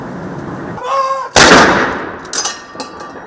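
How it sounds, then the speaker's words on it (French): A single cannon shot booms at Windsor, marking a minute of silence: one loud, sharp blast followed by a rolling decay and a few fainter echoes in the open air. "un deuxième coup de canon retentit pour marquer la fin de la minute de silence"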